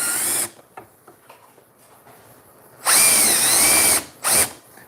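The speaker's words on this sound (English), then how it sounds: "we're going to countersink these holes" A power drill countersinks screw holes in short, close, high whining bursts: one at the start, a longer run of about a second later, then a quick final burst, with quiet pauses between.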